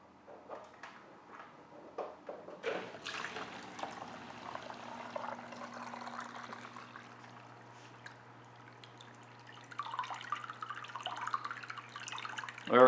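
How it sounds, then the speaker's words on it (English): A Marineland Penguin Pro 275 aquarium power filter is switched on and starts pumping, its low steady hum joined by gurgling, pouring water that builds toward the end. "It should just immediately start pumping water."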